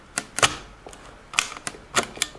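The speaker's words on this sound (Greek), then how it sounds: "πατάμε αυτό το κουμπί προς τα κάτω για να έρθουν οι κασέτες μπροστά" Plastic button presses and latch clicks on a Takara Tomy Transformers Masterpiece MP-16 toy from the 2017 reissue, as cassettes pop forward: a few sharp, close, dry snaps in irregular pairs with quiet gaps between.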